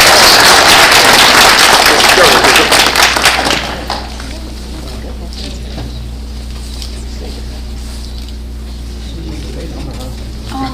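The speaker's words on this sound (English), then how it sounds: "big round of applause for Jerry" A board of education meeting audience gives a loud, dense round of applause that lasts about four seconds and then cuts off, leaving quiet room tone with a low steady hum.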